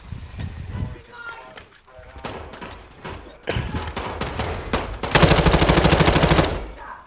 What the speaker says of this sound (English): Shot fired.